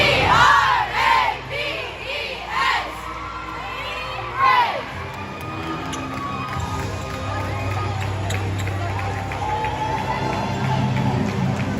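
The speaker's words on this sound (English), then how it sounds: "Ladies entered the arena and got the crowd bumped up and going here for Camo Night." A loud crowd cheers and shouts in an arena on Camo Night at a volleyball match between the BH Braves and the Tri-State Tigers, with energetic bursts early that settle into a steady roar.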